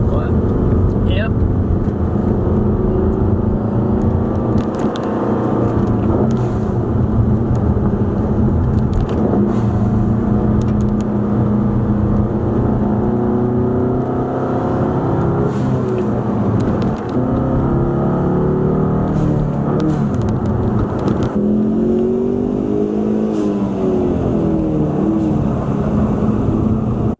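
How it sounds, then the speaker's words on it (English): EcoBoost Mustang fitted with a Tornado kit and Turbosmart blow-off valve, its engine droning loud and close through repeated rises in revs, with a person talking over it. "I need to loosen the spring inside the blow-off valve just a tad bit more because I'm still having flutter"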